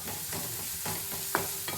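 Onions, green chillies and curry leaves frying in a pan, a low steady sizzle with a few soft stirring scrapes and a sharp clink near the end, alone without any talk.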